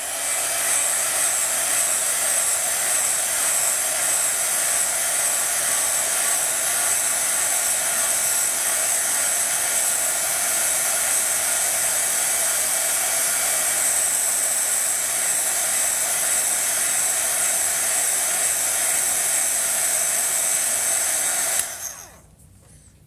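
A hair dryer blows steadily on wet paint for about twenty seconds, a loud continuous broadband whoosh with a constant airflow roar that cuts off abruptly at the end.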